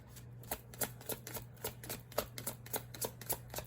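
Tarot cards shuffled by hand in a quiet room, a quick series of crisp riffling flicks and soft card slaps at an uneven rhythm, close and fairly faint over a steady low hum.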